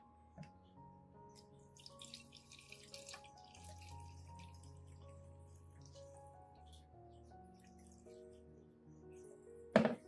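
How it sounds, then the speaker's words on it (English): Rice water solution pours gently into a watering can as a soft, continuous liquid trickle with light drips, ending in a louder splash right at the end. "Gently pour the rice water solution into a watering can."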